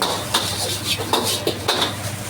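Slightly soggy cooked rice being stir-fried in a pan, with a spatula scraping and clanking against the metal in quick repeated strokes over a low background hiss, close up and with no one talking.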